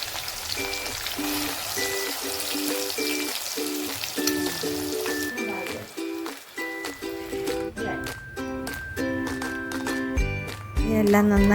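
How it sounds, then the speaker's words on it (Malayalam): Fresh fish frying in a pan for a crushed fried-fish dish gives a soft, hissing sizzle. The sizzle sits under louder, repetitive background music throughout. "എന്നിട്ട് നമുക്ക് മീൻ നന്നായിട്ട് ഫ്രൈ ചെയ്തെടുക്കാം"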